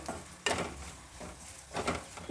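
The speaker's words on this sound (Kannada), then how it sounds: "ಒಣ ಕೊಬ್ಬರಿ ಬೆಲ್ಲ ನಟ್ಸ್ ಎಲ್ಲ ಈಗ ಚೆನ್ನಾಗಿ ಫ್ರೈ ಆಗಿದೆ" Dry coconut, jaggery and nuts frying in a pan, a soft sizzle with a few stirring scrapes, faint and close.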